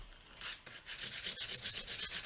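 Rhythmic back-and-forth rasping of sandpaper rubbing on a wooden sign, close up, in quick even strokes.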